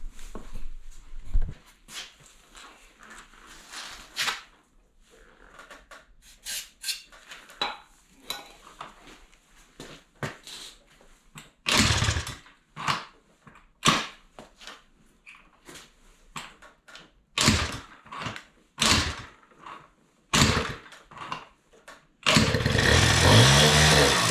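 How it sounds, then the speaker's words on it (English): Honda Spree scooter with a swapped engine being kick-started, a series of uneven clanking kicks and mechanical thumps that end in a sustained loud engine burst near the end. "we'll kick her over and see what happens."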